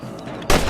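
A single loud rifle shot cracks out after a short stretch of ambient outdoor game sound, fired at rabbits in the Western video game Red Dead Redemption on PS3.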